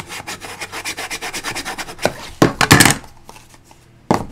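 A big spatula rubs and scrapes along the inside of cardboard-like paper bookcase flaps, a steady run of close, dry rasping strokes followed by a few louder scuffs and a final sharp rub.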